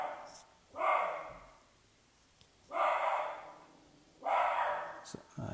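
A pet dog indoors in a home on a cul-de-sac, frustrated at neighbours playing basketball, barks three times at a steady pace, moderately close, while a game plays quietly in the background.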